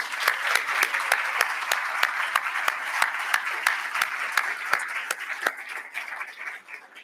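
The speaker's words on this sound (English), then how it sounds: "Let's give them all a round of applause." A crowd at a gala applauds steadily with dense, continuous clapping that slowly thins toward the end.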